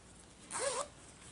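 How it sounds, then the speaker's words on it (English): A zipper on a bag sewn from handwoven fabric is pulled once in a quick, close rasping stroke lasting about a third of a second, set against quiet room tone. "See how the zipper works?"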